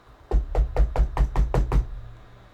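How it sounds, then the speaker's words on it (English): Eight evenly spaced knocks on a door come in a steady run, fairly loud and close, then stop, leaving a quiet room behind. "to someone knocking at the door"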